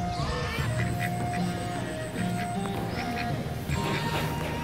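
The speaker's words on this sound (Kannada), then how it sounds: "ಸ್ವಲ್ಪ ಬಾತುಕೋಳಿಗಳೆಲ್ಲ ಇದೆ ಮತ್ತು ನವಿಲು ಕೂಡ ಇದೆ" Ducks quacking in a garden park with peacocks nearby, a steady mix of calls over continuous outdoor background noise, moderately loud and ongoing throughout.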